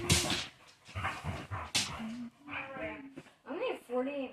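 Dogs play-fighting at close range, with bursts of growls, whimpers and yips trading back and forth, while a person talks over the scuffle.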